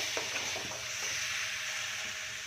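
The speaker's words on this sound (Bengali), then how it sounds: "এবারে আমার মশলাটা ভালো করে কষানো হয়ে গেছে।" Tomato masala frying in a pan and being stirred, a steady sizzle with a few soft scrapes of the spoon against the pan, close and moderately loud, no talking.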